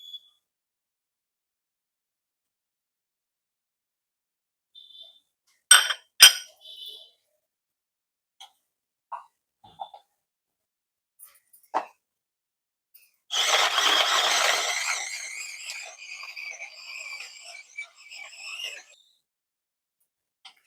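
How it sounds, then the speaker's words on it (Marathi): A few sharp metallic clicks and taps, then a burst of harsh grinding and crushing as a hand crusher crushes ginger, garlic, green chili and coriander, running several seconds before trailing off. "आता ह्या क्रशर मध्ये हे आलं, लसूण, मिरची, कोथिंबीरचा क्रश तयार करून घेते."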